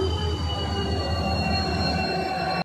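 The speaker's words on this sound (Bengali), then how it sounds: "এটা চেন্নাই যাওয়ার ট্রেন" A train bound for Chennai stands at Santragachi station, giving off a steady, loud rumble with a high metallic squealing ring that holds for nearly three seconds and then cuts off abruptly.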